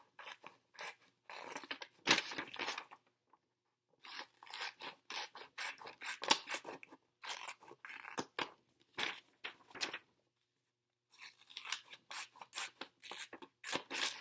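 Scissors snip through paper as puzzle pieces are cut out, quick close-up crunching cuts in bursts with a couple of short pauses, the page shifted between cuts; no talking.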